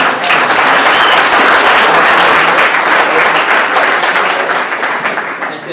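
Loud, sustained applause from a conference keynote audience fills the whole stretch, a thick roar of clapping that tapers off slightly at the end.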